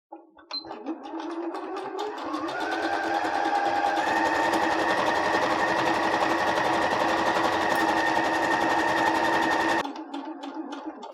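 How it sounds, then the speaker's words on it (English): A domestic sewing machine stitching a seam on children's leggings starts with a few short bursts, then runs at a steady, loud whirring pace for about seven seconds before stopping abruptly. "Then I'm going to turn my fabric as I start sewing."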